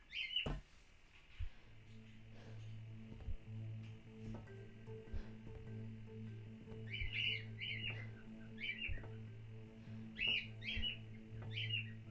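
A bird squawks in short, sharp, repeated calls over a steady electronic hum and background music, the calls grouped in bursts across the clip with a knock near the start.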